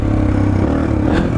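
A Suzuki DR-Z 125L motorcycle engine revs hard for a wheelie, a loud, close, steady mid-pitched drone that holds throughout with a slight rise near the end.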